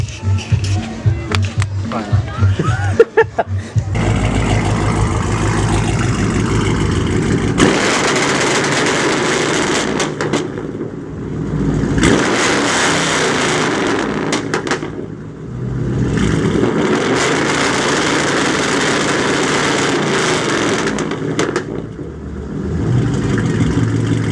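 A Camaro SS with a newly fitted two-step sits revving and idling nearby, a loud throaty engine roar that surges and dips in repeated bursts, with people talking over it at the start.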